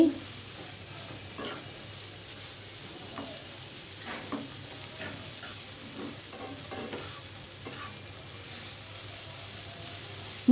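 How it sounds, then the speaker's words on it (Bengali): Potatoes and pointed gourd with the peel on fry in a kadai over medium-low heat with a splash of water, a soft steady sizzle broken by repeated scraping stir strokes, fairly quiet and without talk. "কড়াইতে একটু ভেজে নিচ্ছি প্যানের মধ্যে খুব ভালোভাবে নাড়াচাড়া করে ভেজে নিচ্ছি"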